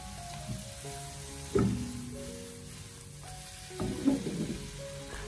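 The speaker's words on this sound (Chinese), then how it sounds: "最后在出锅之前，我们再将它大火炒出锅气就可以了。" Twice-cooked pork with chili peppers is stir-fried over high heat in a wok, with two sharp bursts of sizzling as the ingredients are tossed, and a quieter crackle in between.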